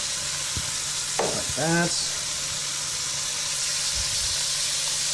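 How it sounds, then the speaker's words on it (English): Duck pieces sear in a smoking-hot pan, giving a steady, loud sizzling hiss throughout, with a brief clatter and a short spoken word partway through. "So we got our pan nice and smoking hot."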